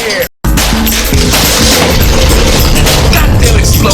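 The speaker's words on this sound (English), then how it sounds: "Goddamn explosion, man." Video game explosion: a loud, dense crashing blast after a brief dropout, with rumbling debris and crackling bursts that continue at full level to the end.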